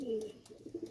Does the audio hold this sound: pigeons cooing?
yes